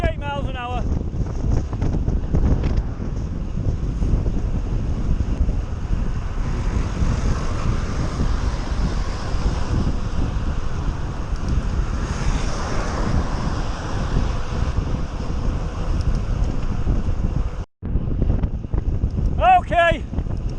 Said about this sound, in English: The wind's going from the left to the right, cross headwind again.